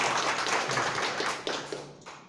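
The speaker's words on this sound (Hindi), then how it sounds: "जोरदार ताली बजाए" A lecture audience claps loudly on cue at a motivational talk, a dense burst of applause filling the clip and tapering near the end.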